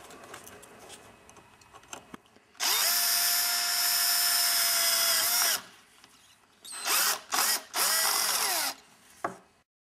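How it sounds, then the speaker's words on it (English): Power drill boring holes around the edge of a ghillie suit face mask: one long whirring burst of about three seconds, then several short stop-start bursts, loud and close with no talking. "You'll want to begin by drilling holes around the outer perimeter of the mask."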